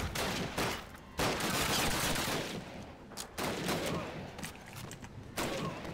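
Pistol and other gunfire in the video game Call of Duty 1, dense bursts of shots with brief gaps, loud and continuous across the clip with some talk mixed in.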